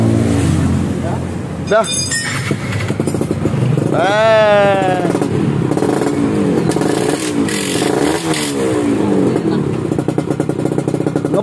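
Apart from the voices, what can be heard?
Yamaha FIZR motorcycle engine revving with new exhaust glasswool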